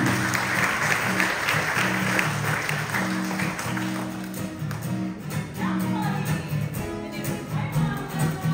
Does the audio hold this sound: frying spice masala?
no